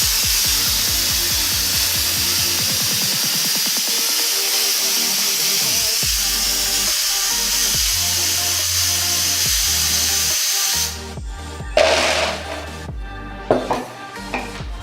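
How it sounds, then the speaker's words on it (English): A metal fidget spinner spins against an iPhone 6s with a steady, close whirring grind that slows in rhythm, then breaks into a few clattering knocks and scrapes at the end. "It didn't break it, but it's making a sound."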